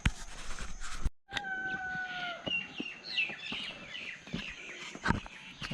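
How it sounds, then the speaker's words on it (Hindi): Chickens at a village on the India-Myanmar border in Mizoram, with clucks and short calls rising over a soft rural background, with sharp knocks and rustles nearby and no talking. "ये इंडिया की है ना मुर्गी?"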